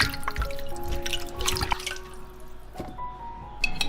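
Soaked chicken feet rinsed in water, with splashing drips and trickles and a few clinking knocks against a bowl, close and moderately loud, without talking.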